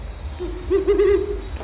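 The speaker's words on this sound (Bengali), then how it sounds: "এখানে দেখুন আউল" An owl hoots in a few soft, wavering notes, clear and fairly close, with a faint steady hum behind it.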